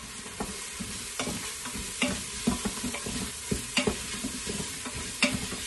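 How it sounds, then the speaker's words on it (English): Onion and garlic stirred as they sizzle in an Instant Pot: a steady, fairly loud frying hiss broken by repeated scraping spoon strokes at an irregular rhythm, no voices. "drop the onion in with the garlic. All right, stir that up"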